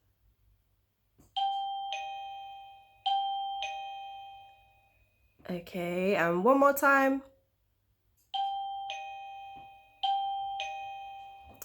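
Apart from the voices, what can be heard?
doorbell ringing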